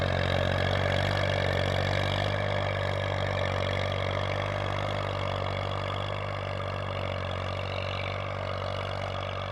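A 1997 Massey Ferguson 240 tractor engine runs steadily nearby, a deep continuous diesel drone with a faint mechanical clatter and no voices.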